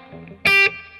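Gibson Les Paul Standard electric guitar played through a Nobels ODR1 overdrive pedal with reverb only and no delay, a single loud, sharp distorted chord stab that cuts off quickly, followed by quiet ringing tail.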